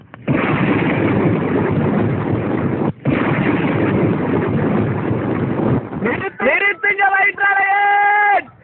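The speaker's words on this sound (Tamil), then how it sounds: "வெடி சத்தோட இடி சத்தத்தை போடுறது" Firecracker and thunder sound effects in a Tamil stage drama come as two long, loud roaring bursts of crackling rumble. A tonal voice with sustained notes follows.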